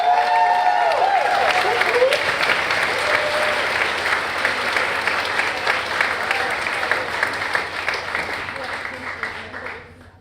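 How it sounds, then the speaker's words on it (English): Large conference audience at a hackathon league event breaks into loud, sustained applause with some crowd noise, holding steady for about ten seconds before tapering off at the end. "Give yourselves a huge round of applause for all that."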